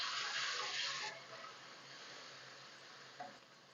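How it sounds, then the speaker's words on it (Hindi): Garlic, ginger and green chilli paste sizzling with onions in a pan as it is stirred, a soft steady hiss that swells briefly at the start and fades, with a faint scrape near the end. "लहसुन अदरक हरी मिर्च का पेस्ट डाल के 1 मिनट मैंने इसको भून लिया है।"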